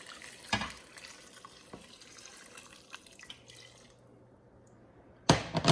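Four cups of boiled water pour into a soup pot in a home kitchen, a steady splashing stream that stops partway through, followed by a sharp clatter near the end.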